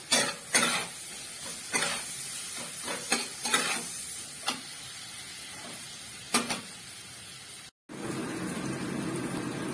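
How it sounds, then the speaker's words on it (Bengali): Onions with turmeric and salt fry in a pan for a Bengali egg curry, a steady close sizzle punctuated by repeated scraping stirs of a spatula, with a brief dropout near the end before the frying resumes. "পেঁয়াজটা ভাজা ভাজা হয়ে গেছে"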